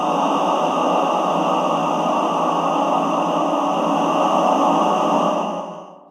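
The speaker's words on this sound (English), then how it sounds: "So when you play all the notes, all the chromatic notes at the same time, you get that, background noise we're talking about." Dense wash of tape-loop vocal notes, every chromatic pitch sounding at once, forming a loud, steady, dissonant choral hiss that holds evenly for several seconds before fading out at the end.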